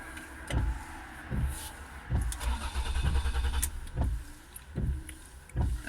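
A 2003 Ford Escape engine cranks repeatedly without catching, with a starter whirring in bursts about once a second and rising and falling close by, and no voices.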